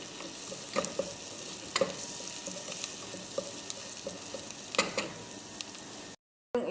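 Onion and garlic sauté in a frying pan while being stirred, giving a steady soft sizzle with occasional scraping clicks from the stirring, close and fairly quiet, with no talking.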